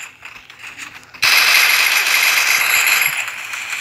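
After a quiet opening, a UMP submachine gun in a video game opens up abruptly in a loud, rapid, continuous burst of automatic fire that lasts to the end.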